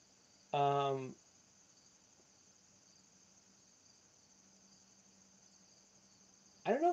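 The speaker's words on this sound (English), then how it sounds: "there are actually insects outside my window making noise. They might be crickets." Crickets or similar insects chirp outside a window as a faint, steady high drone running the whole time, broken at the start and end by two brief, louder voiced sounds.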